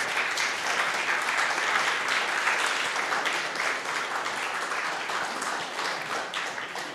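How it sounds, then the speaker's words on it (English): An audience gives a standing ovation at a formal BRICS event, loud sustained applause and clapping filling the whole stretch without letting up. "Can we stand and give our ambassador another huge round of applause?"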